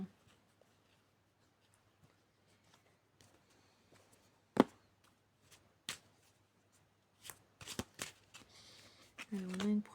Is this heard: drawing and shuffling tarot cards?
yes